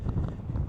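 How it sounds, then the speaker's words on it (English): Strong wind buffets a microphone outdoors, a brief, low rumbling roar. "Boy, it's windy."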